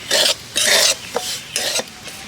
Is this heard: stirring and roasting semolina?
yes